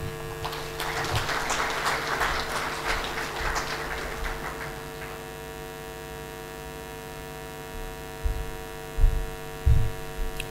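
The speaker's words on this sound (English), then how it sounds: "Again, a round of applause for Tamara Cook" Audience applause at a national payments strategy launch event, a burst of clapping in the first half that fades out, followed by a steady electrical hum and a few scattered thumps.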